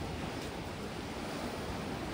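Sea waves at Turi Beach Resort on Batam, Indonesia, a soft, steady wash of surf rolling continuously at a moderate distance, fairly quiet with no voices over it.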